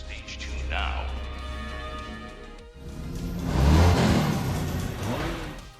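Race cars in an action film rev and roar, a low engine rumble swelling into a loud, rising drone in the second half, with voices heard at times.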